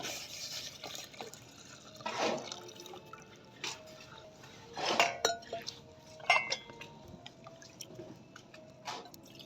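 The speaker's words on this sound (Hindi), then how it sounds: "अभी डालें दूध इसमें।" Milk pours into tea brewing in a pot over already-hot water, with metallic clinks of a pan and utensils and intermittent splashy bursts in a quiet room, no one talking.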